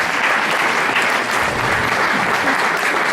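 Dense, steady applause from a gala audience fills the room, loud and continuous throughout without a break, as a young girl named Léna Fruchard is welcomed onto the stage.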